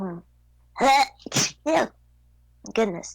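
A single sharp sneeze bursts out close to the microphone among brief spoken exclamations from people in a studio setting.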